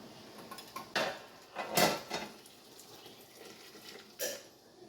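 Large glass canning jars clink and knock as they are set into a canner while making peach peel syrup, with a few distinct clattering impacts over faint background noise and no talking.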